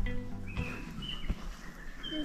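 Birdsong in a forest in the Eglinton Valley, thin scattered chirps and whistles at moderate distance over a quiet background, with a couple of soft thumps nearby.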